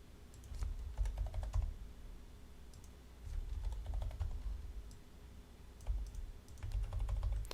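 Someone types on a computer keyboard at close range, including presses of the tab key. The clicks come in quick bursts with short pauses between them.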